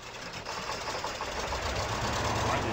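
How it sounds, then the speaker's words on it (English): A big diesel truck engine starts and settles into a steady, knocking idle in Spintires, loud and continuous throughout the short stretch. "Let's start up the engine."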